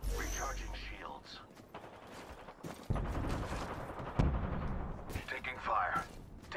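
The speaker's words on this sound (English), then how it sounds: "Taking fire." Video game gunfire, bursts of shots rattling at moderate volume amid other game sounds while a voice talks over them.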